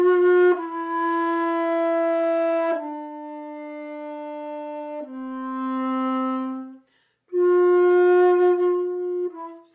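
Ground bass line of four descending notes repeating in a cycle, each long sustained tone stepping lower, one brief gap before the pattern starts again; played alone, clear and close.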